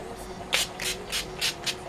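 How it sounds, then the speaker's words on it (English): Several quick bursts of hissing NYX Dewy Finish setting spray onto a face, five or so pumps in a row, close up and fairly soft with faint rustling between them. "I'm then going to use my NYX Dewy Finish setting spray to set my whole face"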